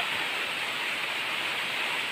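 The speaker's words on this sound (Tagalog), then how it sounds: "Mabasa kayo ng ulan." Steady, dense rain falling on a goat farm during the rainy season, a constant broadband hiss with no breaks, close and even throughout, with no voices.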